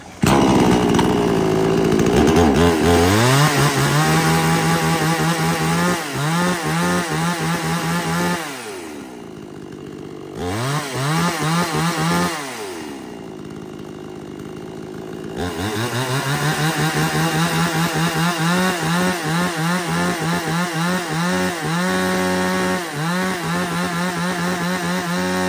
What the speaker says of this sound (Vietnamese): một chiếc máy cưa xích giá hạt rẻ, kinh tế hạn hẹp, nhưng mà một chiếc máy cưa to để về anh em cắt hạ gốc cây nhá